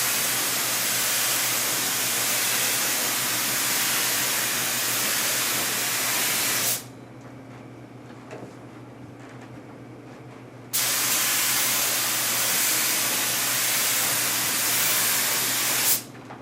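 Sanitizer sprayed onto an office light fixture, two long, loud, steady hissing bursts separated by a few seconds of quiet room hum.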